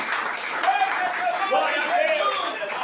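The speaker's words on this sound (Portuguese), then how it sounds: "Será que o nosso Deus merece uma salva de palmas?" Church congregation applauding during a Baptist service, a steady wash of clapping and crowd noise with voices calling out over it.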